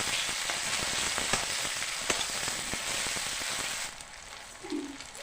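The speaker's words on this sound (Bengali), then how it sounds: "আদা বাটাটা আমি তেলের উপরেই দিয়ে দিলাম" Ginger paste dropped into hot oil sizzles loudly and steadily with crackling pops, then the sizzle thins out near the end.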